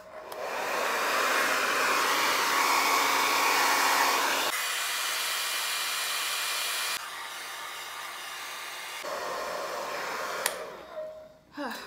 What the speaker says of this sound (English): I'm gonna put the blow dryer on high, but I'm keeping it on cool